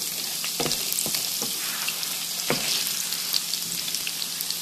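Potatoes frying in rendered bacon fat in a pan, a steady close hiss of sizzling with a few sharp pops and stirring clatters, no talk.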